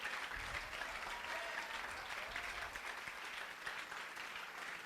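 A church congregation applauds through a French-language service, a dense, even wash of many hands clapping at moderate distance and holding steady for the whole stretch.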